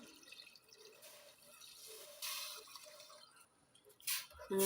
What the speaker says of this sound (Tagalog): lagyan na natin ng 3 glass of water